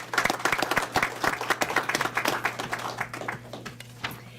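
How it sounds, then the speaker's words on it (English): Applause at a county board of commissioners meeting, a modest group of people clapping with distinct individual claps that gradually thin out over a steady low hum. "So if we could, a round of applause for Kelly."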